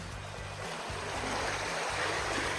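A small creek stream flows steadily at a secret spot, a soft continuous watery rush with faint low rumbling beneath, fairly quiet and without voices.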